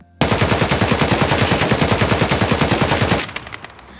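An AK103 rifle fires in Escape From Tarkov, a loud close burst of rapid automatic shots in an even rhythm for about three seconds, then a short ringing tail.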